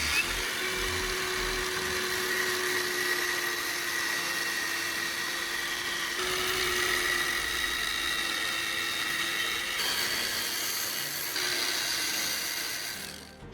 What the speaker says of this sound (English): After cutting it with a grinder and cutting disc, I carefully remove the pipe